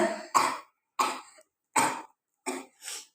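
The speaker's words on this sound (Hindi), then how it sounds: "देखो ये खांसी खसखस कर" Six short, harsh dry coughs in irregular succession, close and loud, with brief silences between bursts and a throat-clearing quality, no speech.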